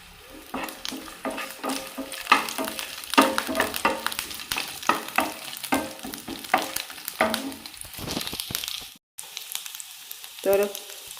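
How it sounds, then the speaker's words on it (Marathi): Onion and garlic fry in a little oil in a pan for a crab curry, giving a soft sizzle under repeated scraping stirs of a spatula against the pan. A short gap comes near the end before one more stir. "आता मी लसूण आला सगळं एकत्र भाजतलो आहे। तेल पण थोडंसं घातलं आहे पॅनमध्ये आहे।"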